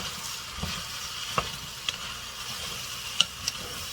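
Thickener stirred into a simmering pot of fish chowder, giving a soft bubbling hiss with a few light spoon taps and clinks against the pot, faint and close.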